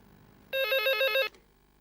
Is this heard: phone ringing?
yes